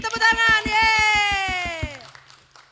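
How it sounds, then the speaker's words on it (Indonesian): Young children at a Sunday school service clap their hands in a quick, regular rhythm of about a dozen claps. A sustained sung or cheering voice runs over the clapping, then both stop. "Tepuk tangan"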